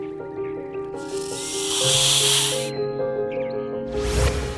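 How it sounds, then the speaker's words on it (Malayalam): A cobra's long, loud breathy hiss rises and holds for over a second, then a second hiss bursts in near the end over a steady musical background. "അടുത്തുള്ള മാളത്തിൽ താമസിക്കുന്ന കോബ്ര പാമ്പ് അവിടേക്ക് വരുന്നത്"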